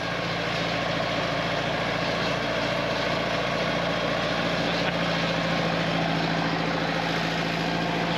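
A John Deere tractor engine idles on hunting land, a steady low rumble that holds evenly from start to finish with no break, close and fairly loud, and no talk over it.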